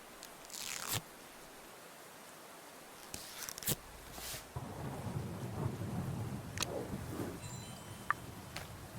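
Rain and thunder in the point-and-click mystery game Murder by Choice: sharp thunder cracks at intervals over a quiet backdrop, then a steady patter of rain sets in and continues fairly faint but constant.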